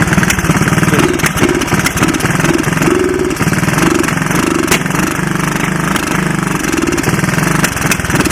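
A 1985 Honda ATC 200S three-wheeler idles loud and close with the choke on, its small single-cylinder engine chugging in a rapid, slightly uneven rhythm with faint surges as it runs low on gas.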